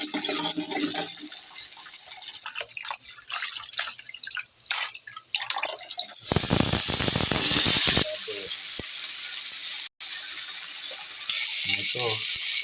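Garlic, onion and ginger sauté in hot oil for pork adobo, a crackling sizzle with scattered pops and a louder burst of frying partway through, continuing steadily to the end.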